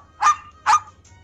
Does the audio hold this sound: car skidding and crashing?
no